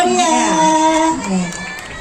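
An audience at a school drama performance cheers and shouts loudly, with children's voices prominent in a dense, continuous crowd roar that eases slightly toward the end.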